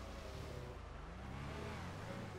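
A car engine hums steadily in GTA Online, a continuous low drone with faint shifting pitch, quiet and even throughout with no talk.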